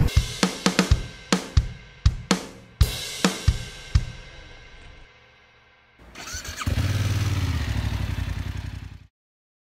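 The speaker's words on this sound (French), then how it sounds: "l'essai d'une nouvelle moto A2, la Ducati Monster 2021" A 2021 Ducati Monster 937 A2 motorcycle engine cranks and fires in a series of sharp bursts, falls quiet, then roars into a loud steady rev before cutting off abruptly.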